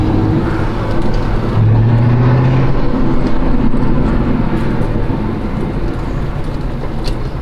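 A car accelerates hard on a highway from around 1500 rpm, the engine note climbing under heavy road and wind noise, close and loud throughout with no talk.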